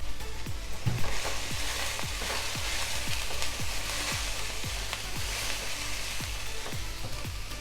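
Hakka noodles with soya sauce and vinegar sizzle loudly in a pan over high flame, a constant hiss punctuated by regular metallic tosses and scrapes roughly twice a second.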